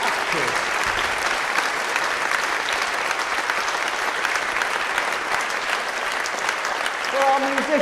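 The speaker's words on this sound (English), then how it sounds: "Can we just have a big round of applause for the actors?" Theatre audience applauding the actors after a show, dense sustained clapping filling the hall at a steady level, with a faint tonal sound appearing near the end.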